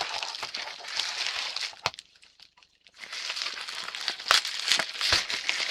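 Crinkly plastic packaging being worked open by hand with fingernails, loud rustling and crackling bursts with sharp snaps, a brief near-silent pause in the middle, close to the mic.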